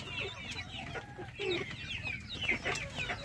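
Chickens in a poultry flock sick with fowl pox, clucking steadily with overlapping calls close by, against a low background hum and no talking.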